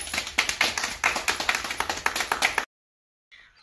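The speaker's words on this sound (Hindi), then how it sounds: "ताली बजावा" Hands clapping in a quick run of sharp, fairly close claps for about two and a half seconds, then an abrupt stop into silence with a faint trailing sound at the end.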